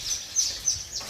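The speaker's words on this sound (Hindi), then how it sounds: "ये जो चिड़ियाएं हैं, इन्होंने यहाँ अपना घोंसला बनाया" Small birds chirp near their nest on an old college building, giving a quick series of four or five high, sharp chirps at a steady pace.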